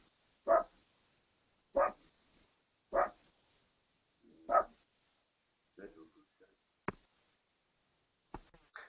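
A puppy barks in short, separate yaps, about seven of them spaced across several seconds, fairly close and alone, with quiet pauses between.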